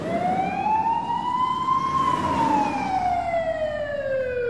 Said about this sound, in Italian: Oh, è la polizia, Rossi